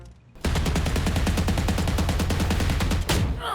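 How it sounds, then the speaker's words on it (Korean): Rapid automatic gunfire from the Valorant video game, a loud steady burst of evenly spaced shots lasting about three seconds, followed by a brief pause and another shot. "아 이런 식으로 아 총소리에 묻히는구나"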